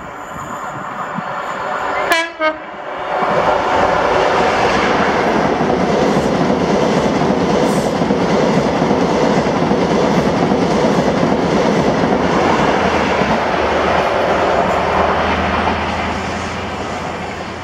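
An LNER passenger train, the 09:15 Inverness to London King's Cross service, passes through Blair Atholl station in Scotland. A short horn blast is followed by a loud, sustained roar of wheels and carriages, fading slightly at the end.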